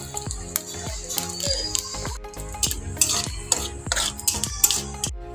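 Two cardamom pods, a clove and whole cumin go into hot oil, with a light sizzle beneath repeated clattering scrapes and knocks of a spoon stirring in the pan.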